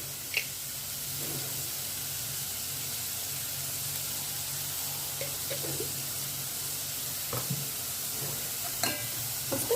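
Brinjal and prawn curry frying in a pan gives off a faint, steady sizzle throughout, with a few soft stirring clicks scattered through it.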